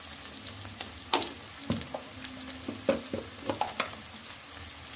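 Boiled potatoes frying with a pinch of salt in a pan for a fish curry, a steady low sizzle broken by occasional clinks and stirring scrapes, close and moderately loud, with no talk.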